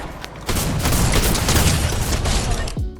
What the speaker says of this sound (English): Fortnite, the drum shotgun from a couple seasons back, that thing was a beast. I love the way it fires.